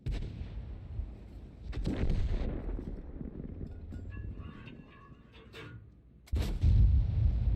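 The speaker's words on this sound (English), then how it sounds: "See here, we got hit by the artillery." Artillery shell slamming into a tank in World of Tanks, heard as a loud, sharp boom near the end, with an earlier muffled thud and a low rumbling battle bed between.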